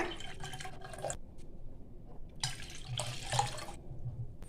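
Water trickles and splashes in two bursts into a pot while making tomato rasam, with brief drips between them, close and moderately quiet.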